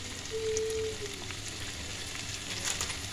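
Ground ginger and cumin fry in hot oil for a tempering, giving a steady, close sizzle with a few soft crackles.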